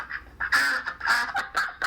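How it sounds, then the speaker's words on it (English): Loud, close ducks quacking in a rapid series of harsh, nasal calls over about two seconds, one burst running into the next with no other sound around them. "the sound of those rabid ducks in the background"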